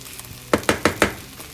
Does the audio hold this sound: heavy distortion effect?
no